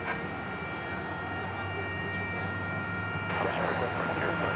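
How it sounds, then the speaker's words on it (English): An Ameriflight Beech C-99 turboprop landing at DFW Airport, a faint, steady engine drone heard at a distance, rising slightly toward the end. "That was an Ameriflight Beach C-99 coming in from Clinton, which I believe is in Arkansas."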